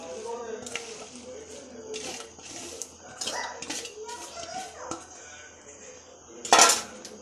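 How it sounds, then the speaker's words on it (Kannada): Mixed lentils being washed inside a metal pressure cooker: repeated clanks, scrapes and clatter of metal and water handling, loud and close, with a dog barking and a voice at times in the background. "ಮಿಕ್ಸ್ಡ್ ಬೇಳೆನ ಈ ಕುಕ್ಕರ್ ಒಳಗಡೆ ಹಾಕ್ಕೊಂಡು ನೀಟಾಗಿ 2 ಸಲ ವಾಶ್ ಮಾಡ್ಕೊಳ್ಳೋಣ"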